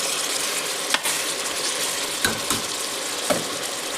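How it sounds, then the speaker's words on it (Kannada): Chopped onions and tomato fry in a pan while cooking pulao, giving a steady broadband sizzle with a few sharp clicks and scrapes of a spoon stirring, close and alone without talk. "ಇದಕ್ಕೆ ಟೊಮೆಟೊ ನೀಟಾಗಿ ಫ್ರೈ ಆಗಲಿ"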